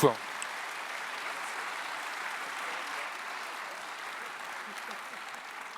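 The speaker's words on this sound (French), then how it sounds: "On peut applaudir nos vice-présidents Guy-Dominique Kennel et nos petits jeunes." Audience applause for the vice-presidents at a Bas-Rhin public Q&A event, a soft, steady wash of distant clapping that holds evenly for several seconds.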